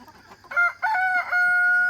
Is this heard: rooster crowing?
yes